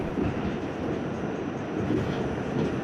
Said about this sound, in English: the New York City subway has fascinated me